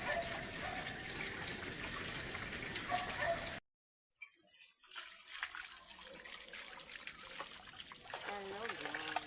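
A tap runs while dishes are washed, a steady gushing stream that cuts out briefly near the middle and then resumes, splashing on and on.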